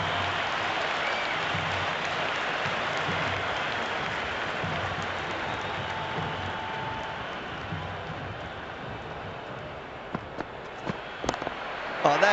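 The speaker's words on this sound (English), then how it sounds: "It's evident and ever so audible that the crowd is at near bursting point at today's play." A stadium crowd roars continuously in the Cricket 26 video game during an IPL match, a steady dense wash of cheering and applause with a few sharp bat or impact knocks near the end.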